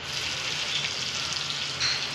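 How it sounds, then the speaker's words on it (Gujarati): Mustard seeds and cumin spluttering in hot oil, a soft continuous sizzle with small crackling pops, close and fairly quiet, with one brief louder splutter near the end. "રાઈ જીરું તતરી જાય"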